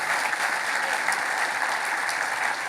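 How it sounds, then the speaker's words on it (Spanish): Dense, steady applause from a large church congregation fills the space, even and sustained throughout with no pauses. "Si quieres darle un aplauso a Dios, dáselo fuerte, por favor."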